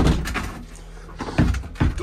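A few knocks and bumps of a bathroom door being handled, lifted and removed, with short thuds and scrapes spaced over two seconds, close by.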